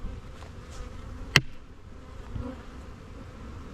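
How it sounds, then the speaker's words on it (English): A wasp buzzes around a beehive during a honey inspection, a faint steady insect drone over quiet outdoor background with one sharp click partway through. "Go away, wasp."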